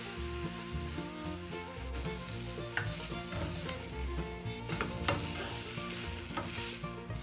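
A sandwich fries in a pan after being flipped to its other side, giving a steady sizzle under busy stirring and scraping, with clattering utensil sounds close by and no talking.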